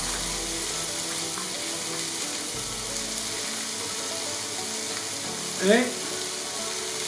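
Diced courgette and yellow pepper sautéing in a pan, a steady even sizzle throughout with a brief stir or clatter near the end, a single short spoken word at the start.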